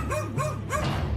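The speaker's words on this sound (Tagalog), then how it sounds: "Bakit parang wala lang sa'yo na tinahulan ka ng aso?" A dog barks angrily three times in quick succession, loud and close, with whining, yelping tones and no talk.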